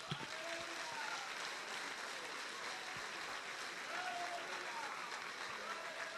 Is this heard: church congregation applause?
yes